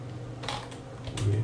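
Computer keyboard typing while searching for Task Scheduler, a few quick soft clicks in two small bursts, close and faint over a low steady hum.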